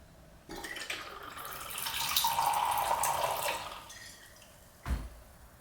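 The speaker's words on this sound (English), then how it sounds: "as I was pouring, there was no air bubbles and there was no stoppage" Liquor glugs and streams steadily from a bottle turned fully upside down for a bartender's free pour, a smooth continuous pour lasting several seconds, then a short knock as the bottle is set down.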